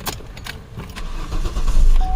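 A 2003 Cadillac with a 3.2L engine, left sitting outside for three days, cranks with a few clicks and rattles before the engine catches and rises into a louder, steady rumble near the end.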